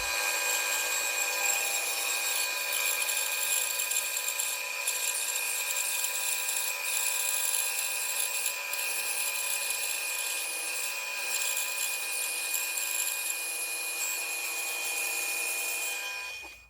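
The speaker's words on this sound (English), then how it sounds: "So I've set up a fence on the bandsaw, very thin cut." A small bandsaw rips a very thin slice off a wide wooden board against a fence, a steady high-pitched whine of blade and cutting that holds evenly for the whole stretch before stopping abruptly at the end.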